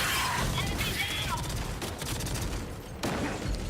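Gunfire from sniper rifles and other weapons in the video game Gears of War E-Day, a dense, loud burst of shots and battle effects that runs through the whole clip, with a sharper crack near the end.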